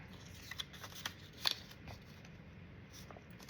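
A paper template for a junk journal pocket is folded and creased by hand, with a few soft, close crinkles and rustles and one sharper crackle near the middle.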